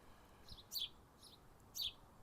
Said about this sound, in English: there's a bird really unhappy with me. I wonder if it's got a nest around here somewhere. Chirping its little head off at me.